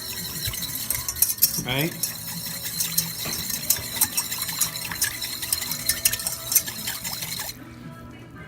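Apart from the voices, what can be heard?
whisking sugar to dissolve into simple syrup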